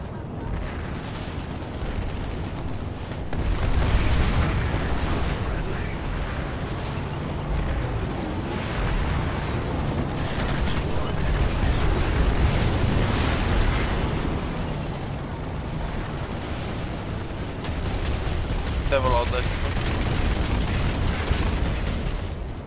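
Explosions and gunfire on a rooftop in a multiplayer shooter game, a dense continuous barrage of booms, bursts and shots, loud and sustained throughout.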